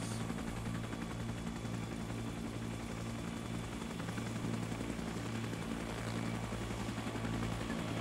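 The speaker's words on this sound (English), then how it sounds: "Helicopter above you." Helicopter in the game Arma 3 flying overhead, a continuous loud rotor thump and engine drone, with occasional gunfire mixed in.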